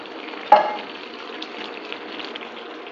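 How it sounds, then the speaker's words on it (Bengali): Pabda fish curry simmers in an open kadai, giving a steady, close bubbling sizzle with one brief clink early on and no talking. "2 মিনিট ফোটাবো, তারপর নামিয়ে নেবো।"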